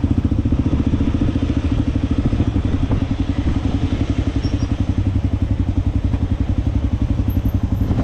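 A tuk tuk engine drones steadily on the road, a loud, fast, rhythmic putter that stays up close and constant throughout.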